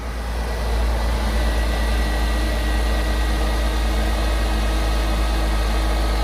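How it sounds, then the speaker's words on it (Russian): A Mercedes C-Class W204 sedan, just repaired for a squealing, creaking belt, idles with a steady, loud, low engine hum that settles in after a brief start and holds evenly, with no talking. "Осталось нам завести и послушать."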